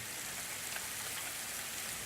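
Steady rain falling on a surface in a virtual reality demo, a constant even hiss at moderate volume with no voices.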